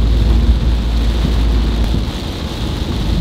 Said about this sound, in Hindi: क्या मस्त खतरनाक बारिश हो रही है बॉस